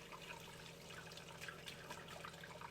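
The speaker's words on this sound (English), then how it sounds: "making sure the pump's on, you get a pressurized flow of water" Pressurized tap water from a pump-fed faucet runs steadily into the sink of a Mobilvetta K-Yacht 79 motorhome, a continuous close hiss and splash with no talk.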